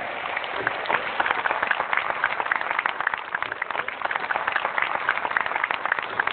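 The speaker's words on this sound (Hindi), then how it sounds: "एक बार पूरा सदन हाथ उठाकर जोरदार तालियां बजाएं।" An audience at a Hindi poetry gathering claps steadily and vigorously with no break, a dense crackle of many hands at a moderate level.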